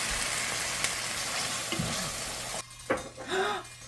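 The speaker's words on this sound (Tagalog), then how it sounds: "Lalagay na natin ang ating Alfredo sauce." Alfredo sauce tipped into a hot pan of sautéed onions and garlic, sizzling and frying steadily and close, with a few stirring scrapes and spoon knocks near the end.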